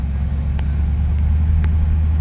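A Chevrolet Corvette C8 with its V8 mounted behind the cabin and a brand-new aftermarket exhaust rumbles steadily at close range as the car drives off, a deep low drone holding even throughout with no talk.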